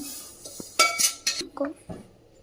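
Uppittu is scooped from a pan onto a plate with a metal spoon, giving several sharp clinks and scrapes in uneven bursts, close and clear.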